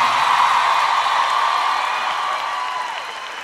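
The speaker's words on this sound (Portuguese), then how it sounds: "Batam palmas e façam barulho" Concert crowd in Lisbon's Campo Pequeno arena applauding and cheering for the band, a dense, loud wash of clapping and shouts that slowly fades.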